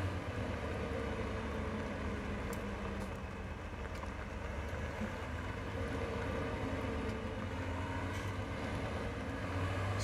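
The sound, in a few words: Deutz tractor engine in video game Farming Simulator 17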